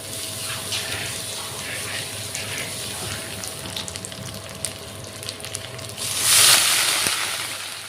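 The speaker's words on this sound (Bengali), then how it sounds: "এটা অল্প পানি দিয়ে মশলাটা কষিয়ে নিব" Sizzling spice paste of green chili and garlic paste with a fish head gets a splash of water, a near, steady fry followed by a loud hissing burst as the water hits the pan.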